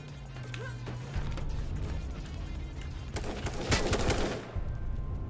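Gunfire in the video game H1Z1, with dense bursts of automatic shots and impacts over a noisy, rumbling background that peak near the end.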